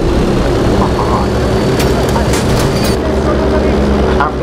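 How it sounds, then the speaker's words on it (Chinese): Bomber aircraft engine drone in the Battlefield V video game, a steady loud propeller roar throughout with sharp bursts of gunfire and clanks over it. "飞机！ 轰炸机"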